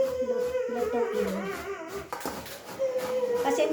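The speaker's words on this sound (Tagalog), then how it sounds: "Pasensya na po, maingay po ang aking aso." A dog that is tied up whimpers and howls nearby in long, wavering whines with a few short yips, loud and continuous throughout.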